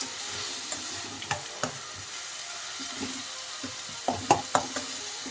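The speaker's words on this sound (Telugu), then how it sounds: "ఈ పెసరపప్పును కూడా నానబెట్టిన పెసరపప్పును కూడా ఉల్లిపాయలతోనే వేయించుకుందాం" Chopped onions and soaked moong dal fry in a pan, giving a steady soft sizzle broken by several sharp scraping clicks of a spoon stirring, growing busier near the end; no voices.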